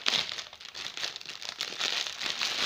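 Plastic packaging around a two-metre roll of faux fur tape, six centimetres wide, crinkles and crackles steadily as it is opened up close, a continuous dry rustle with no voices.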